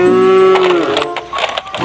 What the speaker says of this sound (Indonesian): di sini masih ada suara sapi